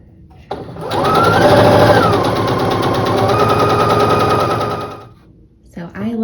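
A sewing machine stitches scrap fabric in a quilting setup, starting abruptly into a fast, steady mechanical chatter that runs loud for about four seconds before slowing and stopping, followed by a brief soft sound.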